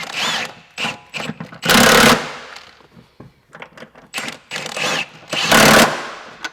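An impact wrench tightening a bolt while fitting a lift kit to a Kia Telluride, loud close rattling bursts of hammering in several spaced runs, with quieter handling noises between.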